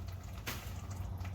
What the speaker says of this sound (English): Starting to drip out.